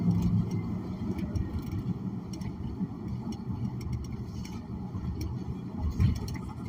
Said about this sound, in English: I'm trying to give it some gas.